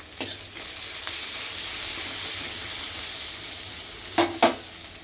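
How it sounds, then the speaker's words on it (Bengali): Onions frying in a pan, an even hiss of sizzling oil with a few sharp clinks of stirring, close and alone. "পেঁয়াজটা ভাজা হচ্ছে"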